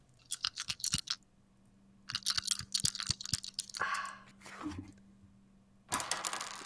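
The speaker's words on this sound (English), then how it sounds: "Can we have a moment of silence for the dice ASMR as I roll 10d6 for a fireball?" Ten six-sided dice are rolled for a tabletop game, giving bursts of sharp clattering clicks that rattle, pause and rattle again, loud and close, then end in a final bright scatter.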